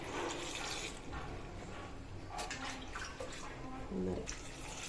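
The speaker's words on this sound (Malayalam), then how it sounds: "ഒരു ഗ്ലാസ് വെള്ളം ചേർത്ത് കൊടുക്കാം" A glass of water is poured into a pressure cooker holding tender jackfruit curry with sliced green chillies. It makes a steady, close rush that runs throughout and swells briefly near the end.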